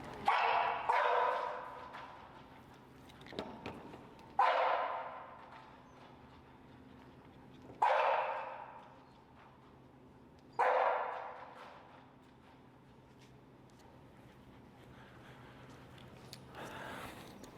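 Two over-stimulated huskies bark indoors at home in four loud, sharp bursts spaced a few seconds apart, each trailing off, with quiet room tone between and no talking.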